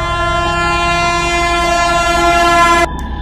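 A train sounds a long, loud, steady horn blast over a rumbling rail and wagon background, holding for nearly three seconds before cutting off abruptly while the low rolling rumble carries on.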